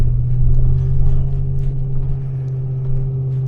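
Range Rover P38 engine pulling in a low off-road gear up a steep snowy hill, a steady deep rumble with a slight swell early on and no talk.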